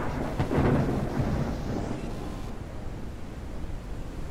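Thunder rumbles loudly early on in the Forever Skies video game storm, then fades into a steady wash of heavy rain and wind that continues alone.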